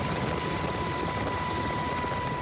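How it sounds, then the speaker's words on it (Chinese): A rescue helicopter flies over the mountains around Beidawu Mountain in Pingtung on an early-morning mountain rescue. Its rotor and engine make a steady, unbroken drone for the whole stretch, with no voices. "空勤直升机出动，一早飞抵山区"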